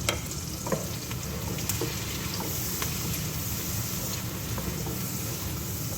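Garlic sizzling in melted butter in a pan, a steady close hiss with occasional small clinks and pops, no talking over it.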